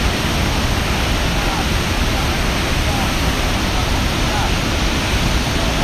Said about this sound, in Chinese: 听到啲水声都够晒壮观